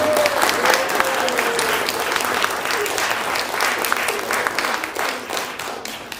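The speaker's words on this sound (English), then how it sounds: "Can we give them all a round of applause?" An audience at a synagogue Shabbat service applauds steadily, dense clapping that holds at an even level throughout, with some faint voices mixed in.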